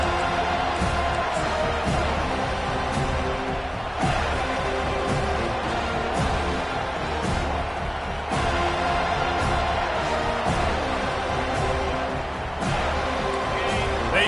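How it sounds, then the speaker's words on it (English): A Florida State college football stadium crowd keeps up a loud, continuous roar of cheering, with rhythmic swells and bursts of noise under a commentator's voice. "They challenge this crowd to bring the energy, and I'd say they're doing that"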